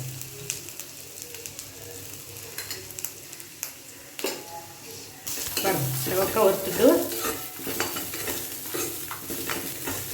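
Ingredients such as urad dal and coconut dry-roast in a pan, with a scraping stir and a soft sizzle that grows louder midway, while birds coo faintly in the background.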